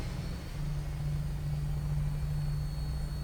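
Prydwen airship lifting off in Fallout 4: a steady, loud, low engine drone with a constant hum running through it, swelling slightly and holding even.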